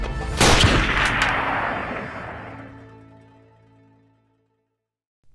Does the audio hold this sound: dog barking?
no